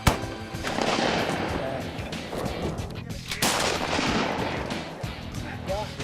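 Shotgun blasts ring out during an Arkansas duck hunt, a sharp close report followed by another, each with a long rolling echo across open water and timber.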